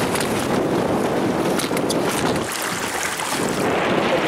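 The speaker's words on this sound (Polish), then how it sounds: "Duże fale, bardzo silny wiatr." Strong wind gusting over a lake with big waves, heard from a small boat driven by a Haswing Osapian 36lbs electric outboard motor; loud, continuous buffeting wind noise rushes across the microphone with water splashing beneath.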